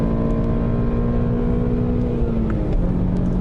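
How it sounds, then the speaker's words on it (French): BMW E90 320si four-cylinder engine revving steadily from inside the cabin, a continuous loud drone whose pitch holds then dips slightly near the end, with no talk. "J'adore ce moteur."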